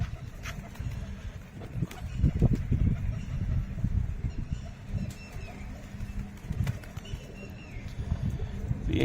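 Pigeons coo in a low, continuous murmur at a home loft while being trained to settle, with soft fluttering and shuffling sounds throughout.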